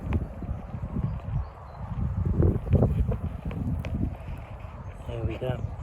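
Wind blows outdoors through Padrón pepper plants in a garden, a steady low rustling rumble with buffeting on the microphone. Brief faint rustles sit on top, and a voice speaks under it.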